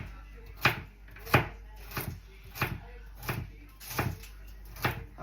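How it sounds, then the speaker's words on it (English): Carrots are chopped with a knife on a board in a home kitchen, giving about seven evenly spaced, firm thuds close by over a low background hum. "I really don't like chopping carrots"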